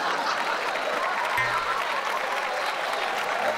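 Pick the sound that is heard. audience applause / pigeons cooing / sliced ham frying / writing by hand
audience applause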